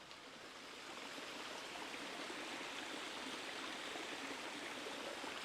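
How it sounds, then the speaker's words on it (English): Fast-flowing stream rushing after heavy rain in Hackfall Woods, a steady broad wash of water noise that swells slightly in the first second and then holds constant, with no voices. "the streams that run down through Hackfall are really flowing at quite a pace today"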